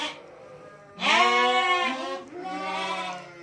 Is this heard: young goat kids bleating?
yes